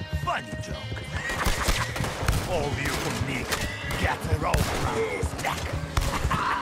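A horse in the Red Dead Redemption 2 Online video game neighs and gallops with clip-clopping hooves amid bursts of gunfire, a dense busy mix with voices in the background.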